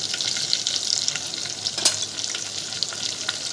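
Masala-stuffed brinjal fries in hot oil with turmeric added, giving a close, steady hiss of sizzling with scattered sharp crackles and spits, and no talking.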